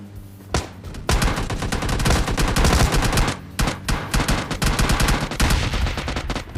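Gunfire erupts in a shooter video game, with loud bursts of rapid automatic shots and single cracks that stop and restart across the clip, and no talk over them.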